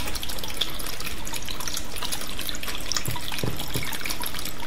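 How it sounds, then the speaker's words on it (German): A new outdoor fountain splashing: continuous close water spatter and trickle with scattered brighter drips, steady and moderately loud, with no voices. "Wie gefällt euch der neue Brunnen?"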